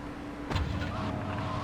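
Deluxo car in GTA Vice City driving with a steady, fairly loud engine drone that swells briefly with a burst of revving near the start, then holds an even hum.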